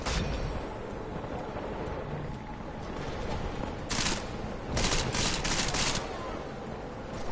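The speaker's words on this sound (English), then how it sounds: "Where are these fucking shots coming from?" Gunshots in the Deus Ex video game crack out in a few sharp bursts over a rumbling background, with a pause between the first shot and a later cluster of shots.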